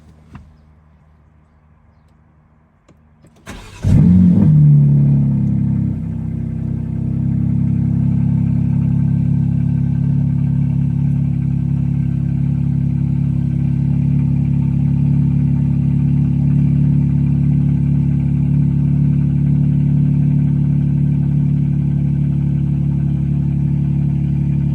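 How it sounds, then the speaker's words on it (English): A BMW M3 cold start after sitting unused for a week: a short starter crank, then the engine catches with a loud flare and settles into a deep, steady idle that holds alone to the end. "let's get a cold start video. Haven't started the car in a week"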